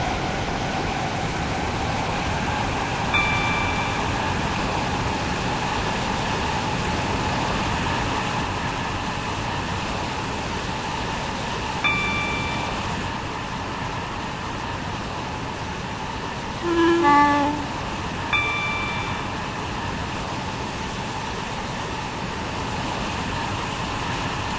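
Steady rumble of a moving train in the Roblox game Stepford County Railway, a continuous low drone of wheels and motor with faint chimes and a brief louder tone near the middle.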